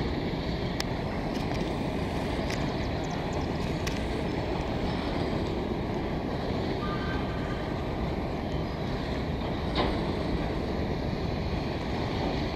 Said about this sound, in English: Trying to see, where's this other train going?